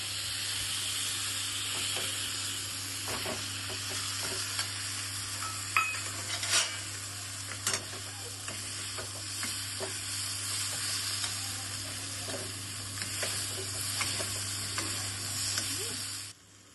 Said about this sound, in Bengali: এবার আমি একে একে আনাজগুলো সব মশলার সঙ্গে কষতে দিচ্ছি।